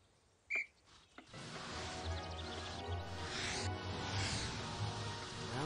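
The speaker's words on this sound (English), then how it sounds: "Ready, Potter? On my whistle," Madame Hooch blows a short, sharp whistle in the Harry Potter PC game, a single shrill blast near the start, followed by the steady rushing whoosh of flight rising behind it.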